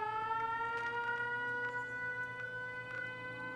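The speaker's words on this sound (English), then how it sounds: "Why is there sirens?" Civil defense sirens in the video game Fallout 76, a steady wailing multi-tone siren drone holding over a low hum, with faint background sounds scattered through.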